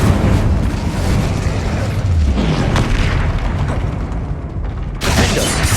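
Spell blasts boom and burst loudly and almost without pause during combat in Hogwarts Legacy, with a fresh heavy blast landing near the end.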